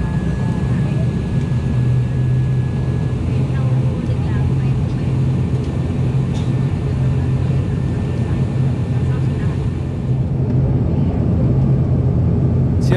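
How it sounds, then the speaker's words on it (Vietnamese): An ATR72 turboprop airliner's engines drone steadily and loudly while the plane taxis toward the runway, a constant low hum with a faint higher tone, heard from inside the cabin. "Tiếng ồn của động cơ máy bay này lớn hơn các loại máy bay sử dụng động cơ turbofan như A321, A350."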